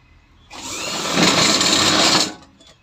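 A sewing machine stitches a belt onto elastic in one loud, continuous whirring run of about two seconds. It starts up abruptly, holds steady and then stops, with quiet before and after.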